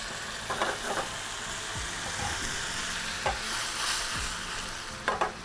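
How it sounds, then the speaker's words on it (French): Jerusalem artichokes cooking in foaming butter with a splash of white poultry stock, a steady close sizzle broken by spoon scrapes and clinks against the pan, with no voices. "Et dans le beurre moussant, on va mettre nos topinambours."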